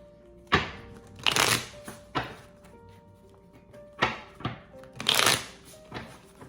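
A Steampunk Tarot card deck is shuffled in several quick, crisp riffling bursts, each a second or so long, separated by short pauses. The bursts are close and clear, with no talk.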